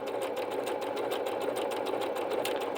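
A Bernette B-77 sewing machine runs steadily through a straight stitch, its rapid even needle rhythm close and continuous with no talk.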